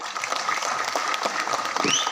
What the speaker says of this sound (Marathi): आवडलं असेल तर एकदा जोरदार टाळ्या होते